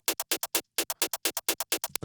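Unfiltered hi-hats made from a transposed snare tail, a quick run of about fourteen bright, noisy hits in a steady, slightly swung rhythm, each with a full low end left in and a short decay, alone and up close.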